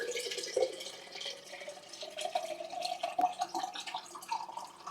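Cold water pours steadily from a tap into a canner, a faint continuous splashing with a rising tone as the container fills.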